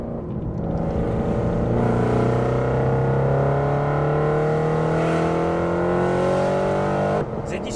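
A car nicknamed the Satanwagen accelerating hard through the gears, its engine note climbing loud and steady for about seven seconds before cutting off abruptly.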